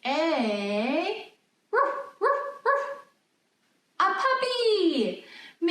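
A puppy barking and whining close by, with a drawn-out wavering yelp, three short sharp barks, then a long falling howl-like whimper; a voice may be present.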